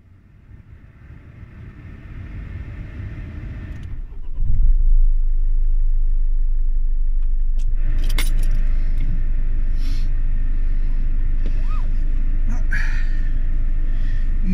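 A packed car starts off on a trip, its engine coming up after a few seconds into a steady, close interior drone with low road rumble, some faint knocks and rattles along the way.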